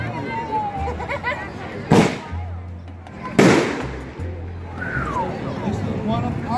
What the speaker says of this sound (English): What a wonderful night to be out shooting fireworks.